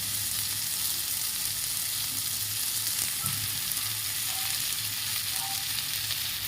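Lightly fried tomatoes sizzle in hot oil in a pan for a shrimp curry, a steady close crackle throughout with a few faint clinks.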